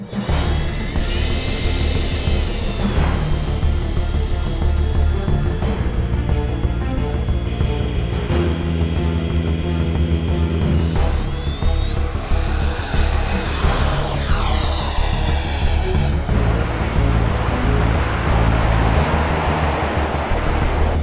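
A Freewing Avanti S RC jet makes a low speed pass, its loud steady ducted-fan whine rising and falling in pitch as it sweeps by for about twenty seconds, with no talking.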